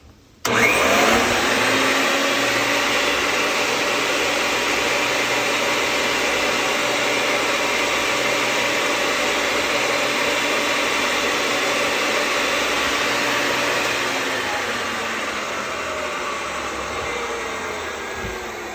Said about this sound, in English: The next thing that I do is I clean the pipe, and I usually put this in reverse